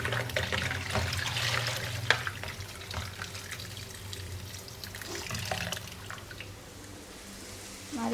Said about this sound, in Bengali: ছোট মাছ ধোয়া হচ্ছে